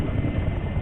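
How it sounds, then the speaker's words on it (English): Steady low rotor thrum of a helicopter in flight, loud and close, with a constant dense rumble and no voices. "It was my first helicopter ride,"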